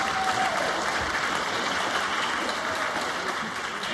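Sustained applause from a school staff audience at a professional development gathering, a thick, even roar of many clapping hands filling the room, easing slightly toward the end.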